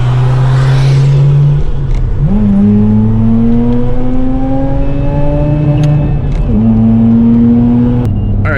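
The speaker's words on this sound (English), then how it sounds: "Highway driving RX8 is so much fun" Mazda RX8 cruising on a highway, its engine drone steady and loud with two gear shifts and rising revs throughout, continuous road and wind noise, no talking.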